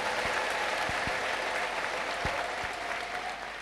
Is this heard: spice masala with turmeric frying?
no